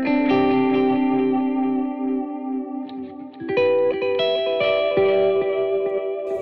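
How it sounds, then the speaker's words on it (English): Sustained electric guitar chords through a Line 6 Helix chorus effect with a wobbling, shimmering warble, then brighter picked notes, all with a processed, spacious effect and no talking. "Mix a little bit, just so you can really hear that warble"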